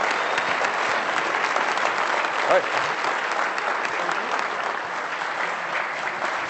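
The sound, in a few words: audience applause at luncheon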